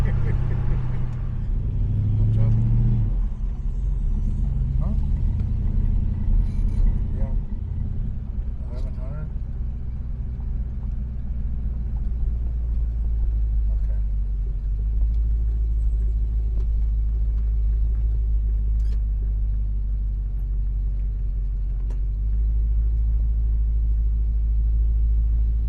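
Inside a moving car on the way back to a hotel, a deep, steady engine rumble and road drone fill the cabin throughout, with occasional small knocks and rattles over the constant low roar.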